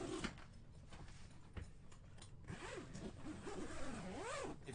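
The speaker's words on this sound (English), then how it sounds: "we'll just unzip this side isinglass" Zipper on a boat's clear isinglass side window panel being drawn open, a steady scraping rasp running several seconds at close range, with no one talking.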